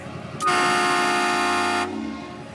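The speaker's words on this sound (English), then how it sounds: "he has a big old train horn on that thing" A loud, sustained multi-tone train horn mounted on a truck blasts for over a second nearby, then cuts off abruptly, leaving low engine rumble.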